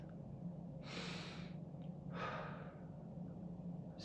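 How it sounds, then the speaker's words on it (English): Two deep breaths, each a slow airy inhale lasting under a second with a quiet pause between, close and soft against a low background hum, with no speech. "taking a breath"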